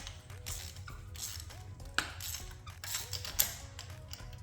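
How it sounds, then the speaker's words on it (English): A 5/8-inch socket wrench loosens a spark plug on a 2017–2019 Buick Encore 1.4L turbo engine, giving faint, close mechanical creaks and ratcheting clicks with a couple of sharper metallic ticks. "Now I'm going to go ahead and remove the spark plug at this location right here."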